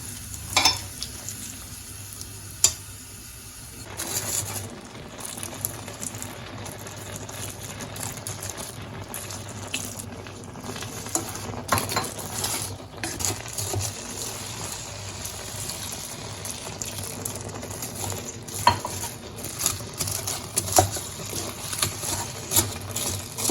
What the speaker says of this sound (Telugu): ఇప్పుడు ఇందులోకి కాచిన పాలను కొద్ది కొద్దిగా వేసి కలుపుకోవాలండి